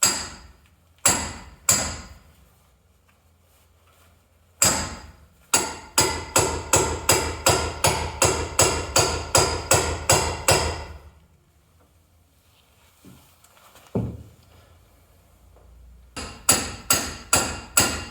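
Sharp metallic hammer blows ring out on a BMW E30 Touring's front suspension part, a few isolated strikes followed by a rapid, steady run of about fifteen hits, then a pause and another quick burst.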